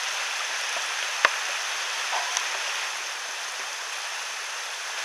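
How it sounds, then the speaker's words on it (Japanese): Light rain falling on a tent at a riverside camp, a soft, steady patter with a few sharper isolated drop taps, faint and continuous with no talking. "2時にしてようやく小雨になってきた"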